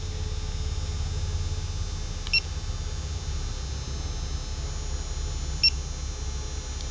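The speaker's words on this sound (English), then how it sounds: "you're going to torque the rocker on bolts with a digital torque wrench." A digital torque wrench gives two short, sharp electronic beeps a few seconds apart while it is being switched on, heard close over a steady low background hum in a garage.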